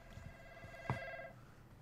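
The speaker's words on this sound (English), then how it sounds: "Is that a phone?" A phone rings in a video game, a steady electronic ringtone holding for about a second over quiet game ambience, with a brief sharp impact partway through.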